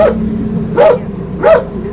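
A dog gives three short, sharp yelping barks close by on a sheep farm in Bulgaria during wet lambing season, evenly spaced over a steady background hum.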